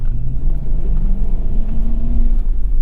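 A 2006 Toyota 4Runner V-8 accelerates hard through snow, its loud, close engine rumble steady and rising in pitch over a few seconds with no talking.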